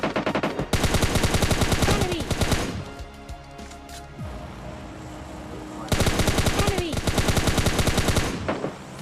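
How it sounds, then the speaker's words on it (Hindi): Rapid automatic gunfire from the mobile shooter PUBG Mobile Lite during a squad fight, loud bursts of rattling shots, a quieter gap with scattered single shots, then another long burst. "अब उधर से गोली बारी चालू हो जाती है सब लोगों में।"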